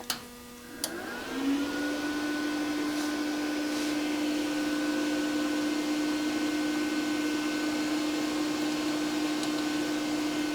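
A budget TIG welder powers on with a click, then its fan and internal unit settle into a steady, fairly loud electrical hum and whine that holds evenly to the end, with no talk over it.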